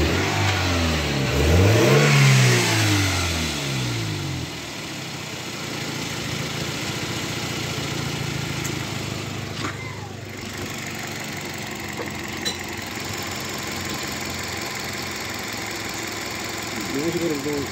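A Toyota Vios car engine revs loudly near the start, then settles into a steady running idle for the rest of the span, with some talk and workshop noise alongside.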